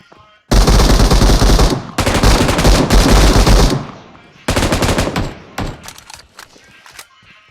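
Automatic weapon fire in the video game BGMI: loud, close sustained bursts of rapid shots in several long volleys, separated by short gaps and trailing into scattered shots and thuds.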